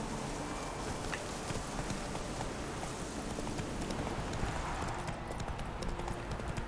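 Steady clip-clop of horse hooves in The Witcher 3, a continuous trotting rhythm over dense game ambience, with no talking.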